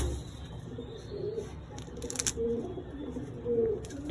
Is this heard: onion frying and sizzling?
no